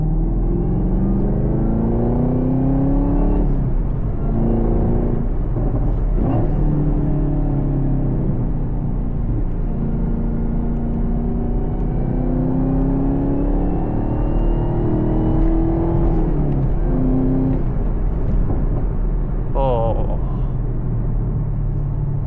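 A 2022 Camaro ZL1 driving on the road with auto rev match, its engine droning steadily inside the cabin, pitch rising and falling through gear changes, with a voice heard briefly.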